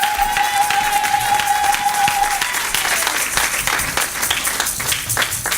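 Church congregation applauding for Jesus, a steady full round of clapping from a crowd that swells and continues throughout, with a held tone fading early on.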